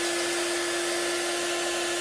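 A cheap handheld blow dryer runs steadily to shrink heat-shrink tubing over a connector on an FPV quadcopter build, a continuous close, loud whooshing drone with a strong steady hum and no voices.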